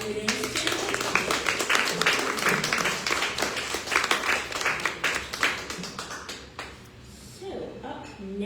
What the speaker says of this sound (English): get another round of applause for them